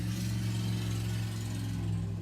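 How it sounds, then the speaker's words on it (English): A car engine outside an open window gives a steady, low, droning hum that holds level for about two seconds, moderately faint, with no voices. "And my window opened, so there was a car."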